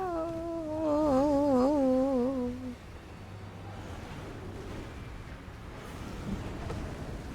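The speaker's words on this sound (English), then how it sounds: "That's the sound of me dying." Elden Ring player death sound: a short wavering, descending tonal cry lasting about three seconds, followed by a low rumbling, rain-like wash of ambient game noise.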